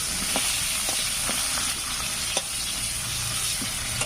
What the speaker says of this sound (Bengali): কড়াইয়ের তেলের ভিতরে একটা পেঁয়াজ কুচি করে কেটে দিয়ে দিয়েছি, দিয়ে ভালো করে ভেজে নেব